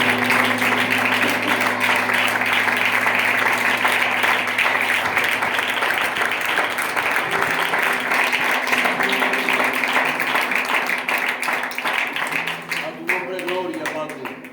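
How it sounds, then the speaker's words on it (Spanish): Church congregation applause during a Spanish-language sermon on eschatology, sustained clapping over a held low musical drone that tapers off near the end, with voices mixed in. "Aplaude a Dios, por favor."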